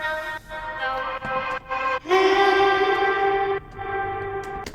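Vocals in a melodic trap song drenched in reverb, a sustained wash of harmonic tones that swells, cuts briefly and returns with a long smeared tail.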